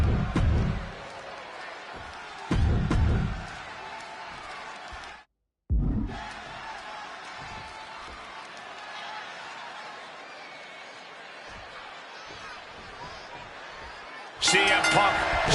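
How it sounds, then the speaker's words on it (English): A steady arena crowd roar fills a Chicago wrestling show in the WWE 2K26 video game during a CM Punk versus Eddie Guerrero match, with louder swells and a brief dropout. "And just listen to this crowd here in Chicago."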